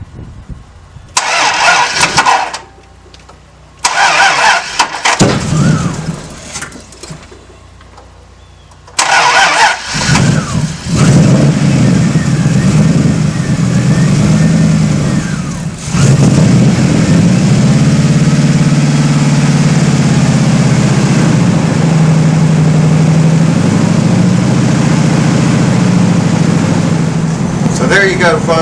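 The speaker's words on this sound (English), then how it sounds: "You can hear the truck running in the background." A truck engine cranks and starts after a battery install, then settles into a loud, steady idle close by; someone talks in stretches over the early part.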